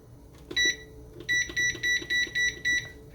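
Digital timer on a kitchen appliance being set for a laundry soaking test, giving one sharp electronic beep followed by a steady run of six evenly spaced beeps, close and clear over a faint room hum.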